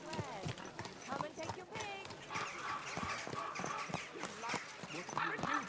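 Horse hooves clip-clop steadily at a brisk pace in the video game Kingdom Come: Deliverance 2, close and fairly loud, with talk over the top.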